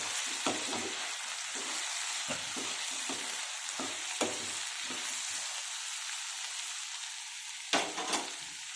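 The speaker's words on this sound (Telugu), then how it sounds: "ఇంకా ఒక 5 మినిట్స్ అలా ఫ్రై అవ్వాలండి." Tomato rice masala frying in a pan gives a soft, even sizzle broken by repeated scraping stirs, a louder pair near the end, close and with no voices.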